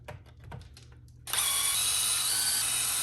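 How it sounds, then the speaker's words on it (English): A small power screwdriver spins out screws from the top cap of an Arrma Limitless RC differential, starting with faint clicks and then whirring steadily and close. "we're gonna take the 4 screws off of this top cap"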